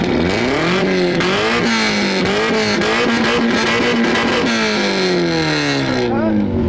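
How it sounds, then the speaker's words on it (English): A car engine, fitted with a big muffler, revs at a summer motor show, rising and falling in several pitch sweeps, loud and close, with people talking over it. "Man, you got a big muffler on here."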